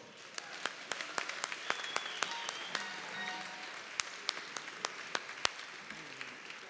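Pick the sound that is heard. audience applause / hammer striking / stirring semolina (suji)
audience applause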